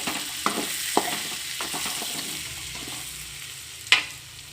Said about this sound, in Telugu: ఇదిగోండి ఫ్రై అవుతుంది కదా.